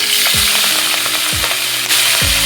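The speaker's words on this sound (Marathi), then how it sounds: "एक पळी तेल टाकायचं आणि हा लसूण व्यवस्थित फ्राय होऊन द्यायचा." Garlic fries loudly in a ladleful of hot oil, a dense close sizzle with rhythmic scraping stirs roughly every second, no voices over it.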